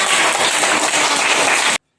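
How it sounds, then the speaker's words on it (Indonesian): Classroom audience applauding a student, a dense burst of clapping that holds steady and loud for nearly two seconds before cutting off sharply into silence. "Kasih beri tepuk tangan untuk Salwa."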